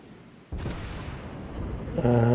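Heavy booming naval cannon fire in World of Warships Blitz erupts after a quiet moment, a sustained rumbling barrage followed by a loud synthetic tone.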